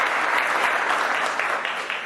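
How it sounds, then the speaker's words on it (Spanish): An audience at a 2011 final presentation event breaks into dense, steady applause that holds for about two seconds and tapers slightly at the end. "Un fuerte aplauso, por favor."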